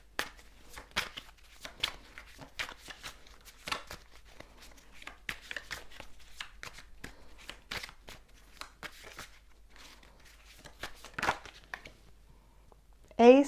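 Deck of tarot cards being shuffled up close, a long run of soft irregular flicks and riffling snaps at low volume, with a brief voice at the very end.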